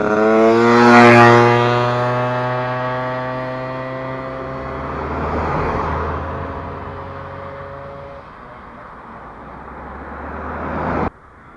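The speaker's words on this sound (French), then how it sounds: "la mobilette, on va la redémarrer tout de suite." A Piaggio Ciao 50cc moped with an Athena kit revs up close by, its two-stroke engine buzzing loudly in a rising and falling drone, then settling into a steady run before cutting off abruptly.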